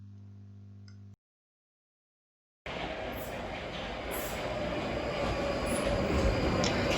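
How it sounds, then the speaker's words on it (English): London Underground train rumbling up to a station platform, a loud continuous broadband roar that builds steadily after a short quiet gap, with brief high squeals from the wheels. "My train seems to be approaching."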